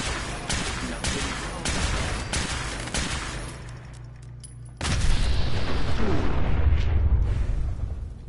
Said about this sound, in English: Woohoo, that was a big explosion.